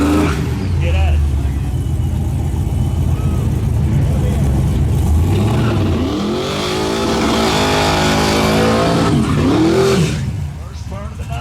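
A street-race truck roars loudly at a street race, its engine revving and accelerating down the strip with rising and falling pitch sweeps, while an announcer talks over the noise.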